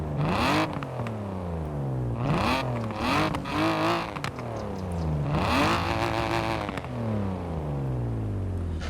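A naturally aspirated BMW E36 M3 engine revs up repeatedly, rising and falling in pitch through several aggressive pulls, loud and close, with no talking.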